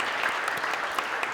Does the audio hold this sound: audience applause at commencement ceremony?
yes